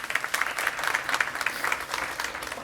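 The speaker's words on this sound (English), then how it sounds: "let me please invite Clara to the stage, hopefully with a round of applause" Audience at an industry conference claps steadily for a speaker coming on stage, a moderately loud round of applause lasting a few seconds.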